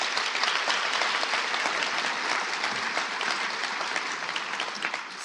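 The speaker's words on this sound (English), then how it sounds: "If we could just offer some applause to the donors." A full audience at the Imagine High 2026 commencement ceremony gives thick, continuous applause for donors, a loud, even wash of clapping that eases slightly near the end.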